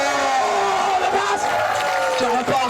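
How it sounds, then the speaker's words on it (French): Crowd at a fighting-game tournament cheering and whooping for the new world champion, a loud, continuous roar with shouts rising over it. "On peut encore l'applaudir."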